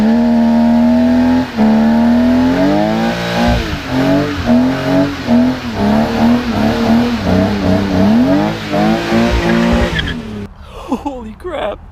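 A manual BMW M3 engine revs hard while tires squeal continuously in a loud, close standing burnout with traction control off, the pitch wavering for about ten seconds before cutting off.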